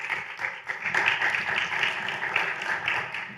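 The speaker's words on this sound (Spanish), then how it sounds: "La recibimos con un muy fuerte aplauso." A community projects conference audience claps in a fairly loud, dense burst of applause lasting a few seconds, fluctuating slightly in intensity throughout.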